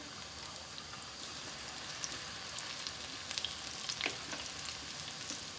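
Chai pakoras frying in hot oil, a steady soft sizzle with small crackling pops and a few brief stirring clinks, fairly quiet and alone.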